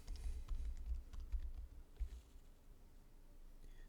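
Keyboard keys tapped while typing a comment into CAM software, a soft irregular patter of clicks that is dense for the first two seconds, then thins to faint scattered taps.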